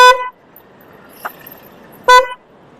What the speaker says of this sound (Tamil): இதை வந்து அழுத்தினா ஹார்ன் அடிக்கும்